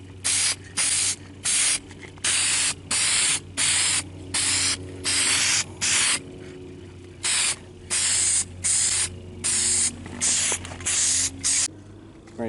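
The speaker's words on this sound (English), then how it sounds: "getting ready to put on the first coat, the hammered black." An aerosol can sprays a first coat of hammered black paint onto a vehicle's interior dash, a Ford Explorer Sport Trac, in about a dozen short hissing bursts separated by brief pauses, close and steady.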